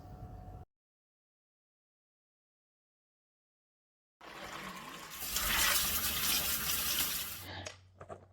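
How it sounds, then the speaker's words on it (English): Soaked beans being rinsed under running water in a sink: a loud, steady rush of water and sloshing begins after several seconds of silence and continues to near the end. "Let's toss it around and rinse it to its cleanest."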